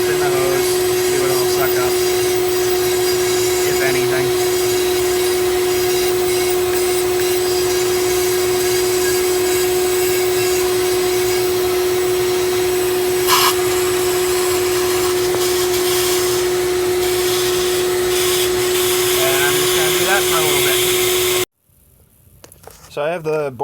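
A vacuum hose sucking debris out of the spark plug hole of a Ford Triton two-valve engine, a loud, steady whining roar with a sustained tone that runs for over twenty seconds, then cuts off abruptly, leaving quiet handling.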